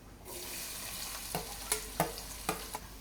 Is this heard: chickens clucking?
no